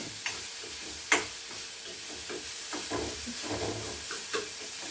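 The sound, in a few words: sautéing spice mixture sizzling in a pan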